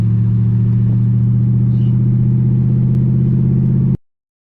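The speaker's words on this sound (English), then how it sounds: "Now let on the clutch. Give it gas." Six-speed manual car pulling away after a gear change, a steady loud engine drone with a low rumble throughout, close by and alone, cutting off abruptly near the end.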